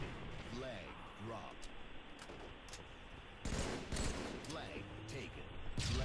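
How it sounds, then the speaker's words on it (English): Rapid gunfire in Halo 3 on the MLG CTF Pit map, with bursts of shots cracking under steady talk and a louder, denser volley near the end. "Here I'm just trying to put shots on anybody I can."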